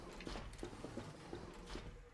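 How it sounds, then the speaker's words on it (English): Footsteps from squeaky shoes in the Fallout video game, a steady walking rhythm of soft, evenly spaced steps with a faint mechanical hum beneath. "Your shoes are squeaky."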